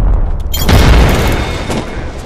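A frag grenade explodes in the Apex Legends video game with a loud, deep boom that hits about half a second in and rolls into a long rumbling decay that fills the rest of the moment.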